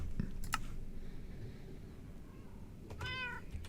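A cat meowing in the Minecraft video game, one clear meow near the end after a few brief clicks, set against quiet background noise.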